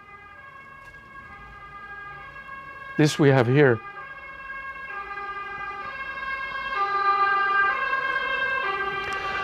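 An ambulance siren passing outside wails briefly and loudly in a quick rising-and-falling burst, set against sustained droning tones, with a person speaking.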